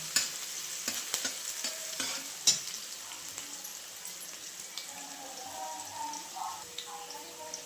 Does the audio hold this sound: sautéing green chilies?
yes